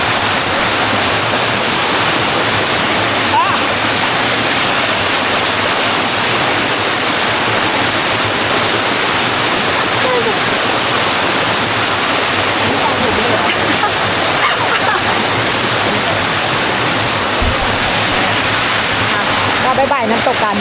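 A waterfall roars without pause, a loud, dense rush of falling water filling the whole stretch.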